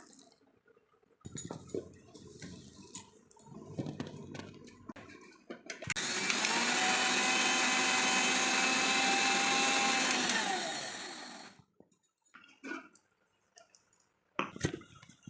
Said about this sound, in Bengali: আমার জবা ফুলের গ্রাইন্ড করা হয়ে গেছে